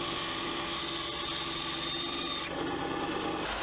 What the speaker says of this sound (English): cleaned up the edges on the belt sander